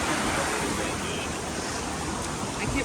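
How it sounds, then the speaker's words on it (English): Waterfall near Juneau, Alaska, a steady broadband rush of falling water, close and constant across the whole short stretch with no breaks. "Nice little waterfall."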